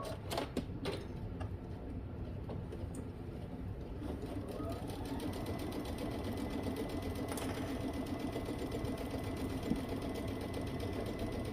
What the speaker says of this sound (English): let's go ahead and stitch that up.